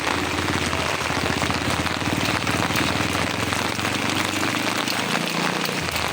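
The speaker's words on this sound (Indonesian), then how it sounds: "Oke, hujan teman-teman ya. Di sini cuacanya sulit diprediksi. Karena tadi bagus, ini sudah hujan." Heavy rain pours outdoors near a Bailey bridge construction site in Garoga village, a dense, constant hiss of drops hitting surfaces, loud and steady with no voices.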